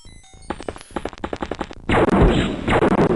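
Reaction fire against a chrysalid in X-COM Enemy Unknown: a quick rattling string of close automatic shots, then a heavier, sustained roaring blast.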